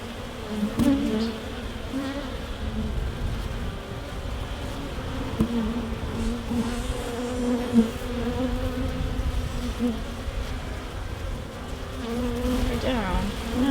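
Honey bees buzz around an open hive outdoors, a steady, close swarm hum that carries on throughout with a few louder passes near the microphone.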